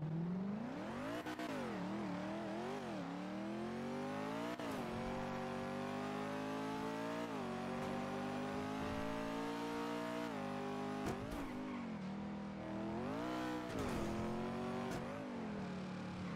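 A car in GTA roleplay drives continuously with a loud, close engine, its pitch rising and falling through repeated revs and gear changes, with occasional tire noise and no voices.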